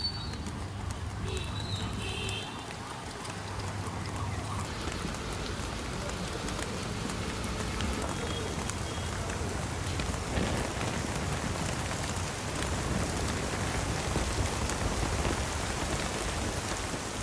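Steady rain falls outdoors in a continuous close hiss across the whole stretch, with faint bird chirps near the start.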